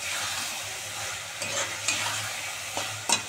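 Spice masala frying in oil that has separated gives a steady low sizzle with a faint hum beneath it, and a handful of spatula scrapes and clicks stand out, the sharpest at the very end.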